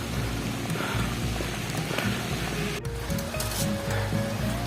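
Steady rain hisses on the trail up Mount Cikuray by the Tapak Gerot route, a dense, even wash of drops with no voices.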